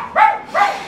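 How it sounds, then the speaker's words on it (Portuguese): A dog barks twice in quick succession, close and loud, two short tonal yaps with a brief gap between them. "O cachorro brabo"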